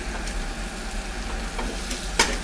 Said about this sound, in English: for a good 15 to 20 seconds on each side, gives it that nice Maillard brown sear that we're looking for